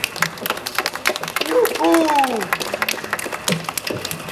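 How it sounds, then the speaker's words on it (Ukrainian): An audience claps steadily through the scene, with a voice speaking and a brief tonal musical sweep rising over the applause. "І оплески глядачів."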